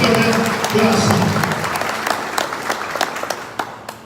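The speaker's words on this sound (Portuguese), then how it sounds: "levante as suas mãos e aplauda Ele" Applause from a church congregation during a Sunday service, dense clapping that starts loud and thins out over a few seconds, with voices mixed in.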